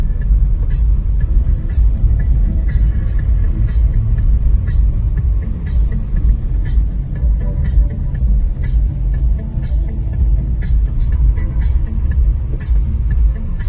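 City road traffic in Jalandhar, on the way from Jyoti Chowk toward Namdev Chowk, makes a dense, continuous rumble of passing vehicles with faint repeated ticking and no talk.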